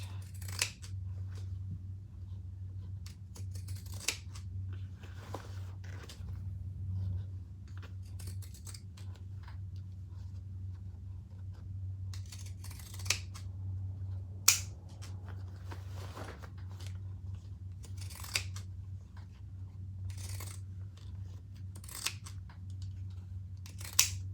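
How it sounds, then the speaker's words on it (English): Pinking shears trim interfaced cotton fabric for a crossbody bag, producing a series of quiet, crisp snips spaced irregularly over a low steady hum. "Let's trim that. I'll just use these scissors."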